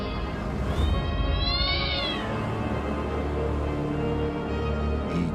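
Kittens meow in a drawn, rising-and-falling cry near the middle, with a softer call near the end, all over a steady, dense background.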